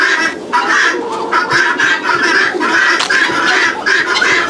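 Guinea fowl and chickens call noisily at farmyard feeding time, a dense, continuous chorus of harsh cackling and clucking that stays loud and close throughout.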